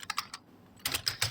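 Quick keystrokes on a computer keyboard, a short burst of clicks, a brief pause, then another cluster of taps, close and crisp with no voices.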